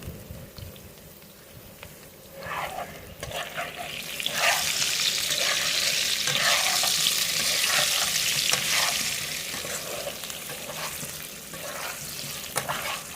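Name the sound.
potatoes being fried and stirred for katla fish curry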